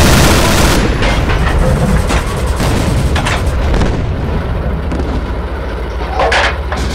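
A heavy tank cannon firing an armor-piercing shell in the game Steel Fury: Kharkov 1942 opens with a deep, rolling rumble that slowly fades, and another sharp report cracks out near the end.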